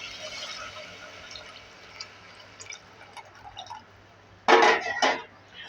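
Strained tamarind water is poured into pepper rasam, a few soft drips first, then a short loud splashing pour near the end.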